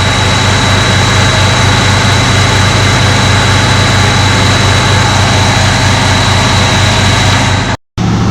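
Engine of a 1991 Range Rover Classic idling during a Seafoam treatment, a steady, loud, close rumble with a constant high whine, running alone without speech until it cuts off abruptly near the end.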